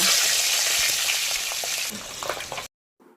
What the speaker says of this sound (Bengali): তেল ভালোভাবে গরম হয়ে গেলে এবার এর মধ্যে দিয়ে দিচ্ছি ছটা শুকনো লঙ্কা